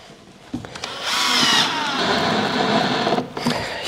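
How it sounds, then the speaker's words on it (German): A power drill drives screws into wooden furniture inside a Sprinter 4x4 camper van. A short whir is followed by a loud, sustained whine lasting about two seconds, then the drill winds down, close and clear. "So, jetzt setze ich nochmal zwei Schrauben ein"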